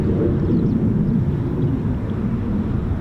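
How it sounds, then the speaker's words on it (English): An F-35B stealth fighter departing from an RAF airfield: a loud, broad roar of jet thrust, steady and continuous throughout, with no voices. "F-35Bs. That's 4 departures today, 2 arrivals."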